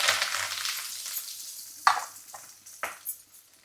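Sliced onion and curry leaves hit hot oil on a low flame, a hissing sizzle that fades, then a few separate stirring bursts of crackle with no talk.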